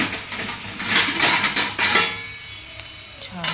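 A spoon scrapes and clatters against a pan while ridge gourd bhaji is stirred, giving a quick run of close metallic knocks and scrapes that tapers into lighter taps.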